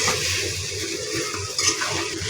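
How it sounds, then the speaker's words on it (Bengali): Food stirred and mixed in a frying pan, a steady broadband sizzle with soft scraping of the spatula, close and continuous, with no voices. "এটাকে এখন ভালোভাবে নেড়ে ছেড়ে মিশিয়ে"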